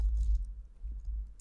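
A brief run of close, soft keystrokes on a computer keyboard while HTML code is typed, heard over a low background hum.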